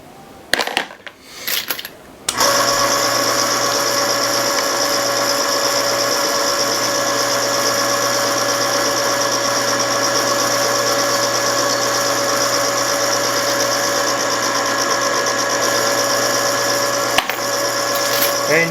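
A .223/5.56 brass case being trimmed for reloading: after a brief clatter, a steady, loud mechanical whirring drone runs unbroken for about sixteen seconds, close up.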